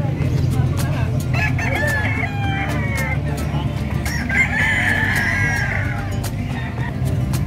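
Fighting roosters crow repeatedly at a busy outdoor pet market in Malasiqui, their calls rising over a steady crowd murmur and nearby traffic, with people talking throughout.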